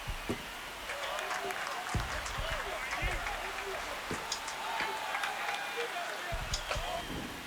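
Stadium crowd in MLB The Show cheers after a three-run home run in a Blue Jays–Mariners game, a steady broad roar with scattered claps and shouts running through the whole stretch, while a commentator talks over it.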